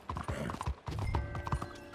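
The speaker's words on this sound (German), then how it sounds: "Ach, da ist unser Pferd, cool." Horse hooves clip-clop steadily on the ground in Red Dead Redemption 2, a close, rhythmic trotting pattern with a brief whinny-like tone and soft ambient game sounds, no talk.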